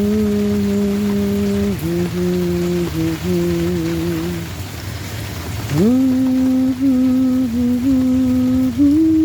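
Rain falls as a steady, close wash of broadband hiss, while a sustained melodic tone glides and shifts pitch above it, fading briefly midway before returning louder.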